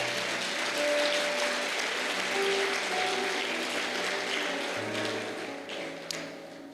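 A church congregation claps together in praise, a dense sustained wave of applause lasting several seconds and fading slightly toward the end.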